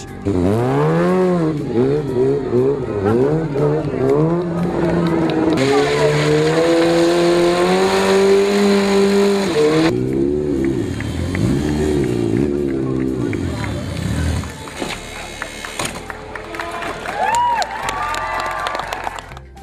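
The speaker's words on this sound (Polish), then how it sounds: "Na pokazy jazdy wyczynowej i ekstremalnej na motocyklach Moto 303 na Plac Wolności przybyły takie tłumy" Motorcycles revving hard during a stunt and extreme riding show in a town square, engines rising and falling in loud repeated bursts with a sustained high rev, crowd noise and voices mixed in throughout.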